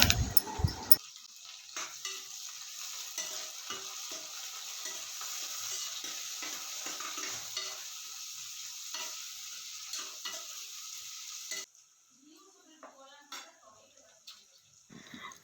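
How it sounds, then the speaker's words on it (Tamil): Onions and green chillies sautéing in oil for butter bean biryani, a steady close sizzle broken by repeated stirring scrapes that stops abruptly near the end, leaving faint, softer sounds. "வெங்காயம் சேர்த்ததுக்கப்புறமா ஒரு ரெண்டு நிமிஷத்துக்கு ஒருக்கா வந்து நல்லா வதக்கி எடுத்துக்கலாம்"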